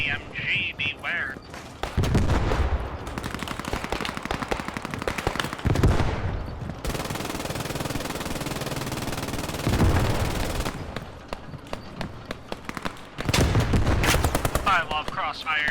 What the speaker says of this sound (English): you're shooting at me again